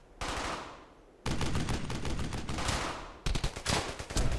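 Bursts of automatic gunfire in the WWII shooter game Brothers In Arms: Hell's Highway, with sustained machine-gun rattle broken by brief pauses, loud and close.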